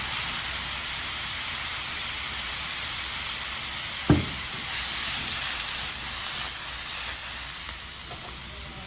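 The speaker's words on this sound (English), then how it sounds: "We're gonna deglaze this pan with a little bit of red wine." Red wine hitting a hot pan of toasted garlic while cooking prime rib gravy, a steady loud sizzle and hiss throughout with one brief clank partway, no talking.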